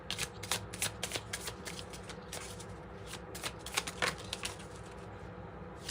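A deck of tarot cards is shuffled by hand, producing a steady run of quick, crisp card slaps and flicks, close and fairly quiet, that continue throughout.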